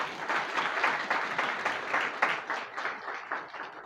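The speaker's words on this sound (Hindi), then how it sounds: "ताली बजाएं।" A church congregation claps together during a Sunday service, a steady stretch of crowd applause without talk.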